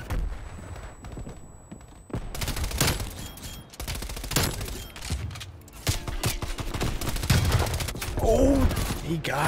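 MP5 submachine gun fire in Call of Duty Cold War, sharp rapid bursts of automatic shots scattered across several seconds, mixed with game effects and close voices talking.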